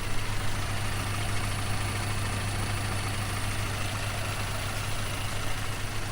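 A 2006 Hyundai Accent sits with its engine idling, a steady low hum and rumble that stays constant throughout, fairly close with no voices.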